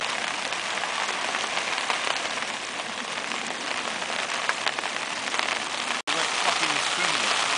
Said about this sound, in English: It's the heaviest downpour we've had, and it just started about a minute ago.